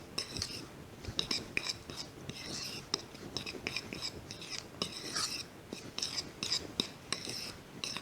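Baking powder and baking soda being stirred into dry cornbread batter ingredients: soft, irregular scraping and rasping of a utensil against a bowl, steady and close, with faint whispery texture throughout.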